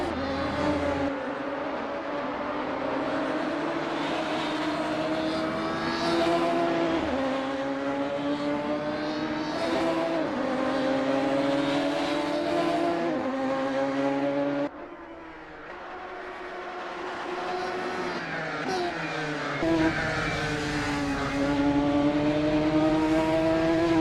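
A Radical SR3 race car in the Assetto Corsa racing game lapping the Nürburgring: its high-pitched engine screams and revs continuously, climbing through gears with quick shift dips, steady and close throughout with no voices.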